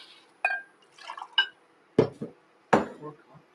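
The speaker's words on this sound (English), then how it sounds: "Okay, so 4 cups of broth / water." Homemade broth and water go into a pot for a plant-based tofu chowder, heard as brief splashes and several sharp clinks of a jar against the pot, close and isolated.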